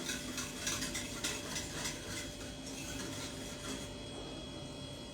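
A spoon stirs sugar into raita in a home kitchen, making soft, continuous scraping and clinking against the bowl at a quiet, close level.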